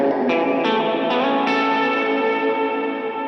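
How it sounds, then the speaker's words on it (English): Distorted electric guitar notes struck a few times, each blooming into a long, washy reverb tail that sustains and slowly fades. "I mean, it's just big reverb."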